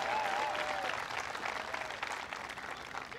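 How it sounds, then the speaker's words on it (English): A large audience at a presidential event claps in sustained applause, dense and fairly loud at first, then gradually thinning out. "Give John a big round of applause"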